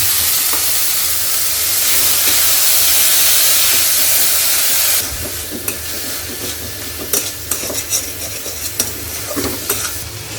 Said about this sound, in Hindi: मसाले डाल के ये पनीर को भी हम इसी में ही डाल देंगे।